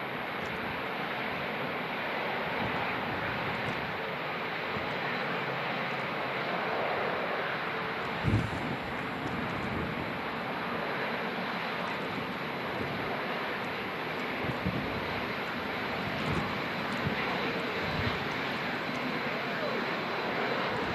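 A Lufthansa airliner from Frankfurt lands at Manchester in strong storm winds, a steady broad engine roar mixed with gusty wind noise and brief bumps.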